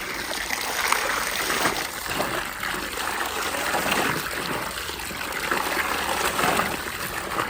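Tap water runs in a steady, close rush over a blazer being rinsed at home after washing, with a constant hiss throughout and no talking.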